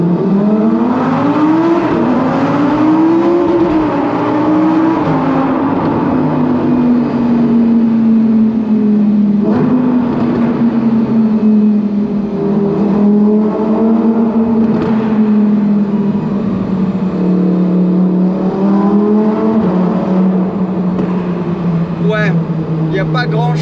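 A Lamborghini Huracán Performante Spyder engine revs loudly and steadily, its pitch rising and falling in long sweeps as the car pulls under load, with a voice speaking over the sound.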